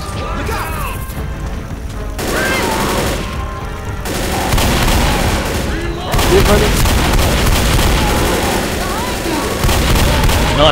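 Dense gunfire and crashing impacts fill a Left 4 Dead co-op match, continuous loud bursts of shots layered over in-game chaos, with players talking and shouting throughout.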